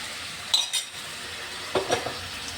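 A spoon stirs kochur loti (taro stolons) in a cooking pot, two brief pairs of metallic scrapes and clinks against quiet kitchen background.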